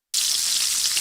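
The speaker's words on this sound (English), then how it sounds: "That is the sound of bacon sizzling" Bacon sizzles on a hot breakfast grill, a bright crackling hiss that starts abruptly after a brief silence and holds steady and close, with no voices.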